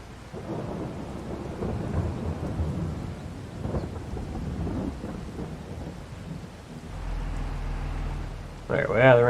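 Thunderstorm rain in the farming game Farming Simulator 22, a steady broadband wash of downpour with low rumbling thunder, running under a voice talking throughout before the sound shifts near the end.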